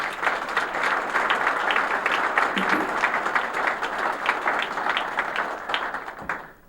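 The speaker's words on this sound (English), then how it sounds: "give our law enforcement a big round of applause" Sustained audience applause for law enforcement at a congressman's State of the District address, a dense steady round of clapping from a large crowd that tapers off near the end.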